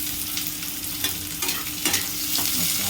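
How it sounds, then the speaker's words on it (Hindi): Chilli pieces and small chopped onion frying in a pan for soyabean chilli, a steady sizzle with intermittent scraping stir strokes, close and continuous. "मु एठी जो फाड़ करिकी लंका रखी थिली ताकू मु 2 पीस देबी एवं छोट छोट पीसेस रे जो पियाज रखी थी ताकू ऐड करनबा।"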